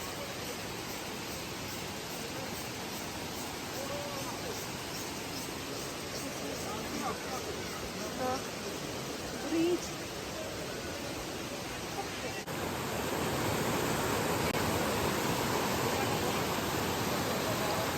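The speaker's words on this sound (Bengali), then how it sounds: "এবার আমরা আওয়াজ পাচ্ছি জলের," Water rushing along a village stream near Mawlynnong in Meghalaya, a steady broadband wash that runs throughout and swells louder in the last few seconds, with faint insect or bird calls scattered over it.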